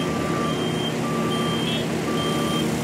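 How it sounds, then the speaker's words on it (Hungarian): Road construction machines work on a town road, a truck's reversing alarm beeping in regular spaced pulses over a loud, constant engine drone. "Már dolgoznak a munkagépek a 49-12-es úton Újfehértó belterületén"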